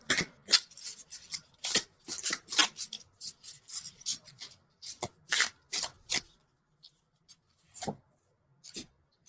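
Tarot cards being shuffled and pulled, a run of quick crisp riffling and sliding bursts with short pauses between them, close and fairly quiet.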